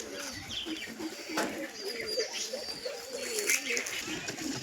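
Pigeons coo softly at a nest where eggs have been laid, low rolling calls repeating close by, fairly faint, with some background noise.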